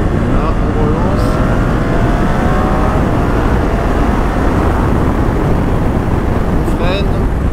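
A BMW GS 1300 motorcycle accelerating on the road, a loud continuous engine drone with rising tones, heavy wind rush over the microphone throughout and no speech.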